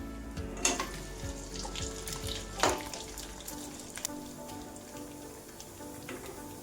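Sago and potato chakli deep-fry in hot oil with a steady, close crackling sizzle, broken by a few sharper pops and spits.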